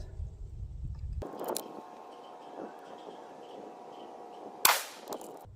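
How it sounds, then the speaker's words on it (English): One sharp rifle shot cracks out while a CVLIFE 6-24x50 scope is being zeroed outdoors, standing out loudly against a low, quiet ambient hum before fading quickly. "that last shot was pretty good"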